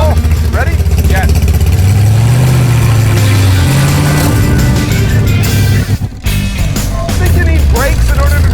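The Vette Kart, a go-kart fitted with a Corvette engine, runs loudly close by. Its heavy, rumbling idle swells into revs and then briefly cuts out, while people talk over it.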